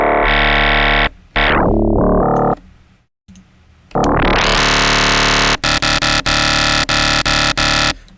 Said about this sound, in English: So right now we're getting like a pretty cool FM noise, and this is just all with sine waves, all on one ratio.